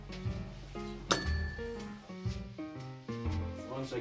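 A small bell rings a few times, bright and clear, the strikes separated by short pauses with quiet tones between them and no talking.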